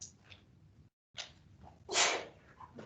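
A single sharp sneeze bursts out during an economics lecture, preceded by a few soft breaths and sniffs, fairly close and loud against the quiet room.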